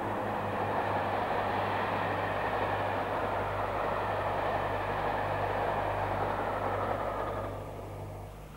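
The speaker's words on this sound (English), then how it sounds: "A shot of the prototype Deltic passing Weedon Junction in 1958." The prototype Deltic diesel locomotive passes Weedon Junction in 1958, a dense roaring rush with a steady low engine drone that holds for several seconds and then fades slightly at the end.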